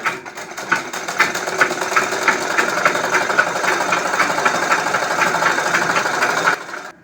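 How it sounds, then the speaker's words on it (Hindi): A sewing machine runs a long continuous seam on heavy palazzo trousers, a loud, fast, even mechanical rattle that starts after a few stitches and stops abruptly near the end. "इसी तरीके से हम पूरी नीचे तक सिलाई चला देंगे।"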